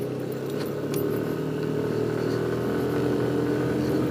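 A stock motorcycle rides over a rough mountain road on the route to Bromo via Lumajang, Senduro and Ranupani in Indonesia, its engine droning steadily with faint rattles over the bumps and no talking.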